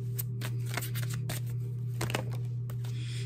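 Tarot cards are shuffled and drawn, producing quick riffling flicks and light card slaps in short bursts over a steady low electrical hum, close and fairly quiet.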